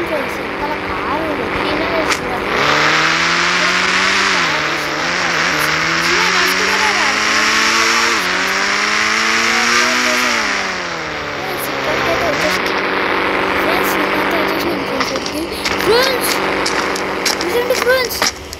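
Car engine in the mobile game Indian Bike Driving 3D, a steady loud revving drone that rises and falls in pitch as the vehicle accelerates and shifts, with tire-squeal-like sweeps and game music throughout.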